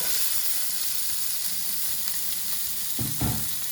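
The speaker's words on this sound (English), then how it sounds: "So we're going to put this onion in." Sliced onion sizzling loudly in a hot pan, a dense continuous hiss throughout, with a couple of heavier bumps near the end as the slices settle or are moved.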